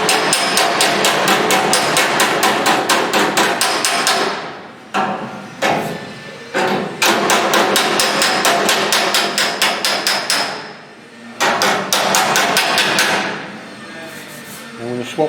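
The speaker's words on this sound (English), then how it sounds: "Use a curved face hammer to start with" Repeated hammering with a curved-face hammer on the steel inner wing panel of a Mk 1 Ford Escort, loud close metallic blows in rapid steady bursts separated by short pauses.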